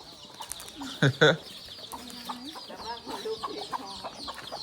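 Chickens clucking nearby in an outdoor farmyard, with a couple of louder squawks early on and steady chatter of hens after.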